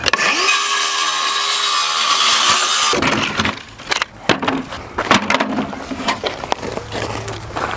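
A power saw whines loudly while cutting wooden pallet slats with the nails still in them, then stops, and clattering knocks and thumps of wood being handled follow.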